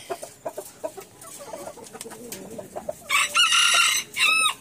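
A fighting rooster of a game-fowl breed crows loudly twice in the latter half, after a run of short clucking calls from the bird.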